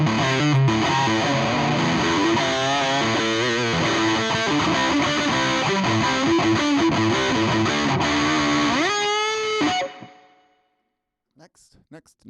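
Electric guitar played through Bias FX with the distortion set low, a dense, steady run of chords that holds for about nine seconds, slides upward, then cuts out, followed by a few brief voice sounds.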